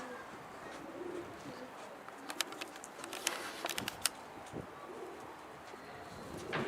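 Pigeons coo softly and repeatedly nearby, mixed with scattered chirps and rustling over a quiet outdoor background.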